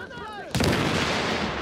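A grenade blast in The Division goes off suddenly after a quiet moment, its sharp broadband burst decaying into a rumbling tail, with faint speech-like sound before it.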